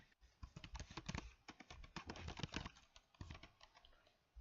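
Keys clatter in an irregular, fairly quick run of taps on a computer keyboard while a name is entered into a blank document in Windows 10, close and moderately loud, with no talking.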